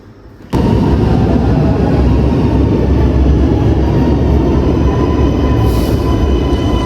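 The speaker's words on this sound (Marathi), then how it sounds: "ही आली आमची मेट्रो." A metro train arrives at a station, its loud, steady rumble and wheel noise bursting in after a brief quiet moment and holding close and constant to the end.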